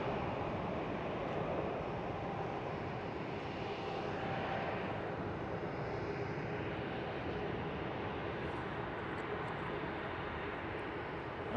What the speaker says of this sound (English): There goes the 777